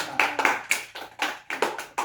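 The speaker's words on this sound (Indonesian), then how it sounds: "Tepuk tangan." Classroom clapping from a group of schoolchildren in a primary school lesson, a short run of uneven claps that builds into a few bunched bursts, close and moderately loud.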